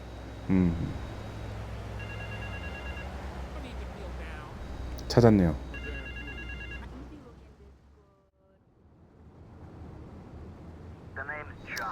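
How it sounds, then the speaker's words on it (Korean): A telephone rings in short repeated bursts over steady background ambience in the video game GTA 3, with a brief spoken line partway through. "계속해서 전화벨 소리가 들리죠."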